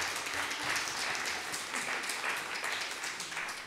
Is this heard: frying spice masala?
no